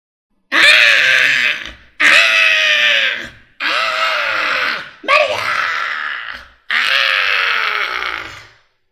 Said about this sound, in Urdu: رگھوناتھ کے مرتے ہی فضا میں دہشتناک چیخیں گونجنے لگیں۔